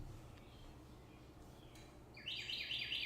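A loud bird calls outdoors, with a burst of rapid, bright chirping that starts near the end over a faint, steady background hum.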